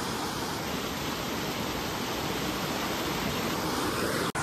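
Rainwater rushing down heavily after a downpour, a loud, steady broadband roar of flowing water that continues unbroken without pause.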